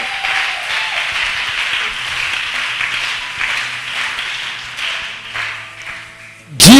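A church congregation applauds at a worship service with a broad, steady patter of clapping at mid distance, a few voices mixed in, and a sharp knock right at the end.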